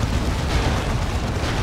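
A melta bomb planted by operatives detonates in the Dawn of War 2 strategy game, a loud, dense roaring blast that fills the whole moment without a break.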